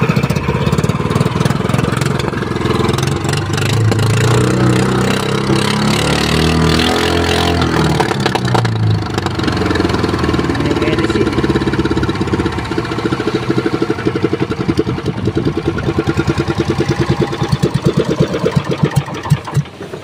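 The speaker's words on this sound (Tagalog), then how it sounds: "Ganda pa ng tunog ng makina, talagang quality." A repaired boat engine runs steadily and loud for the whole stretch, with a dense, even rumble and rapid mechanical knocking, alone without voices.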